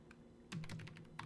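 Keys clatter on a computer keyboard in a quiet room, a few soft taps followed by a quick burst of rapid clicks as a misspelled word is backspaced and retyped, close and faint.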